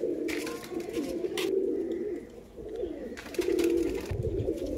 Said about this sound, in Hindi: इनका ब्रीडर कबूतर है ये देखें।